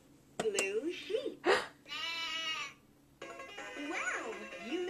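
Sheep bleating from a children's matching game: several short, wavering synthetic bleats, each a few tenths of a second long, separated by gaps, with a longer electronic tone partway through and a final drawn-out bleat.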